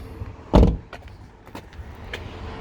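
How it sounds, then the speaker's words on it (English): The bonnet catch on a 2019 Bailey Alliance 76-2 is released by pulling a handle down, giving a single close, solid clunk followed by quiet background. "There is a handle here which we just pull down, which will release the bonnet catch."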